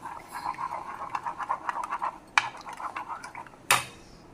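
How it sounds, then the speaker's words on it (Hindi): Egg being mixed with a pinch of salt in a bowl for egg and potato kebab coating, a close run of quick light scraping and clinking strokes, with a sharper knock near the middle and a louder clink near the end. "और अच्छे से मिक्स कर लेते हैं।"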